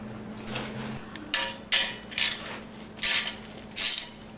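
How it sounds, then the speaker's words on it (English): Exhaust studs on a motorcycle café racer project are tightened with a ratchet in six sharp, evenly spaced bursts of metallic clicking, close and clear over a faint steady hum. "Start tightening up these studs nice and even."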